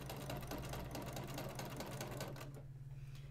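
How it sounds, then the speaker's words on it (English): A sewing machine stitching quilt half square triangles runs in a fast, steady mechanical whir with rapid needle ticks, close by, before slowing and stopping near the end. "And just keep sewing down those lines."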